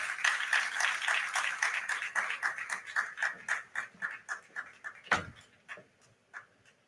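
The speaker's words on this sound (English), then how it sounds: "Please let the applause be better." Sparse, thinning applause at a live Niger Delta MSME Day 2024 event, a few distinct claps in an uneven rhythm that start fairly busy and fade out to isolated faint claps, with one louder knock near the end.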